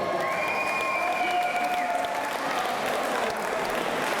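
A large crowd at a mixed martial arts fight night in Swansea applauds and cheers steadily in a reverberant hall, with whistles cutting through the dense clapping.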